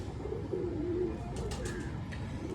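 Soft, low pigeon coos against steady outdoor background noise, with a few faint chirps and clicks later on.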